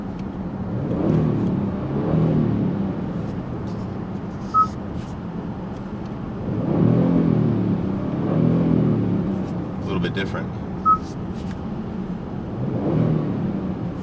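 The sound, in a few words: 2020 Kia Stinger GT2 engine revving in neutral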